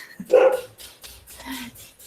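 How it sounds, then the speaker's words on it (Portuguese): A pet dog barks indoors, a loud bark followed by a softer yip, brief and close, with nobody speaking over it. "Calma, meu filho está latindo."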